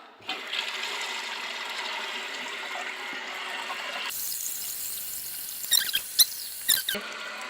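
Water rushes into a toilet tank after a flapper repair, a steady hiss of refilling that shifts partway through, with a few sharp clicks and knocks near the end.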